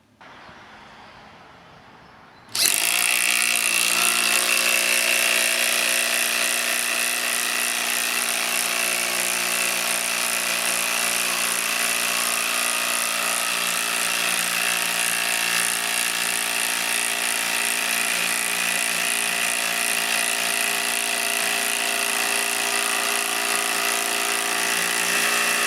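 A Makita cordless impact driver, 40V or 18V, starts up after a short quiet moment and then runs continuously and loudly, with a steady whine and hammering rattle. The level stays constant, with no talk.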